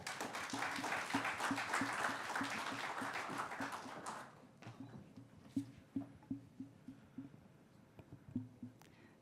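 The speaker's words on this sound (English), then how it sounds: "Please give her a big round of applause" Applause from a conference audience at a finance forum in Africa, a dense round of clapping that fades after about four seconds, leaving scattered claps and soft thumps in a quiet hall.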